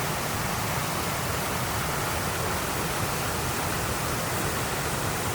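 A small creek runs steadily beside a trail, a constant broadband rush of flowing water with no other sounds and no pauses.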